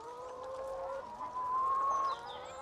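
Free-range hens on a farm shared with alpacas give a couple of drawn-out, close clucks, alone without any talk.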